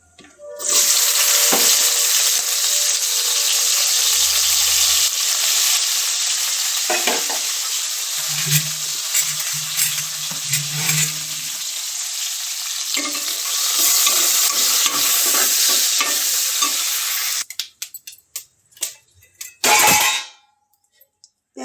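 Oil sizzles and fries steadily in a pan while brinjal curry is cooked, with occasional stirring scrapes; the loud, continuous crackle drops out near the end to a few clatters.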